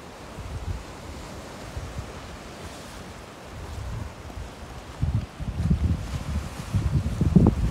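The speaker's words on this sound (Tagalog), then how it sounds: "Sa grabe ng alon." Strong ocean waves break on Astwood beach in Bermuda, with a low, rolling surf roar building in uneven surges and heavy wind buffeting the microphone throughout.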